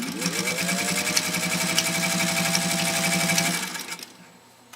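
A Singer 201-2 sewing machine drives steadily through 16 layers of canvas binding tape, a loud close mechanical whir with rapid needle clatter that runs for several seconds, then winds down and stops.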